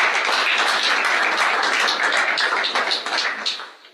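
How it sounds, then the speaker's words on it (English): Audience applause at a poetry open-mic night: dense, steady clapping from a room full of listeners that holds loud for a few seconds, then thins and fades away at the end. "Can you give him a round of applause?"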